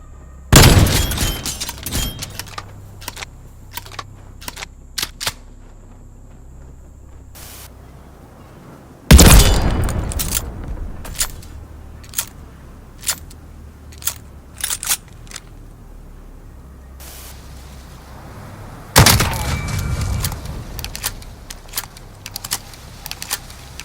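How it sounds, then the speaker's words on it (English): Pump-action shotgun kills in Modern Warfare, Vanguard and Cold War gameplay: three loud, close blasts spaced far apart, each followed by a rattle of sharp clicks, pump racking and shell handling, with no voices. "let's have a look at how it feels to kill using a pump action shotgun from each of these 3 games"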